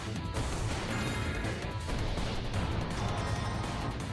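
A long-distance charge punch lands in the Nintendo Labo Robot video game, a dense crashing impact that swells into a sustained roar of crunching, booming game effects lasting several seconds, loud and steady throughout.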